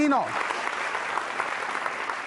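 An audience claps at a Holi quiz show at a university, steady moderate applause following a brief tonal sweep at the very start, continuing evenly to the end.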